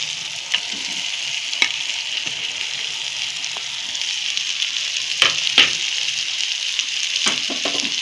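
Boiled, peeled potato pieces in a yellow vegetable curry being stirred in a pan over medium heat, giving a steady sizzle with occasional scraping clicks and spoon taps.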